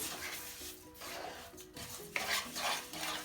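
Ingredients for a Mars bar cake being mixed with a pinch of salt in a pan, faint repeated scraping and stirring strokes with light clinks of a utensil against the pot, no talk.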